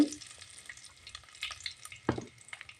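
Curry leaves and a pinch of asafoetida dropped into hot oil for tomato rasam, giving a quiet crackling sizzle with a few spitting pops and brief stirring clinks.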